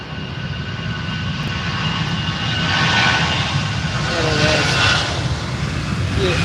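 An EasyJet airliner at Manchester Airport begins its takeoff roll, a steady broad engine roar heard from a distance that swells midway, with a person talking over it.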